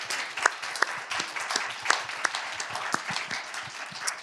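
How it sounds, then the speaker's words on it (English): An audience applauds a panel steadily throughout, many hands clapping at once with a few sharper individual claps standing out. "Let's give them a round of applause."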